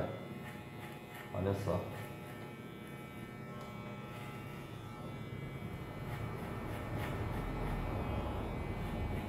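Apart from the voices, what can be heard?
electric hair clipper cutting an undercut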